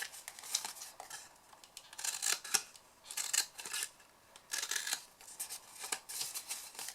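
Scissors snip through card stock, cutting wedges into the corners of a handmade paper flower box, in a close series of crisp, irregular cuts with short pauses between them.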